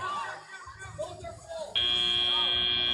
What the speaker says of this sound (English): as that buzzer sounds